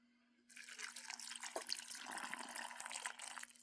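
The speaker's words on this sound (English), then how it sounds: "And now we are going to get that broth in here." Ham broth for ham and bean soup being poured into canning jars, a close, steady splashing pour of liquid that starts after a quiet moment and runs continuously for about three seconds with no talk.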